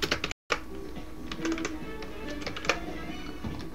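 Computer keyboard typing with hotkey presses for cut and paste comes as a quick run of close, crisp key clicks and taps, uneven in rhythm, after a very brief dropout near the start.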